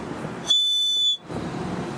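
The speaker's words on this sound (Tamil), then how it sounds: "நம்ம நார்மலா விசில் ப்ளோ பண்ற மாதிரி இந்த விசில் ப்ளோ பண்ணலாம்" A bird-shaped clay whistle blown once, a single clear high pure tone lasting under a second, cutting in sharply over a soft background murmur and stopping abruptly.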